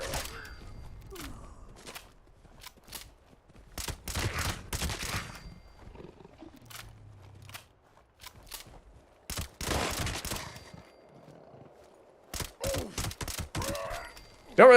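Gunfire in Fallout 76: scattered sharp shots and short bursts, some in quick clusters, over a faint background, with brief quiet gaps and a final loud crack.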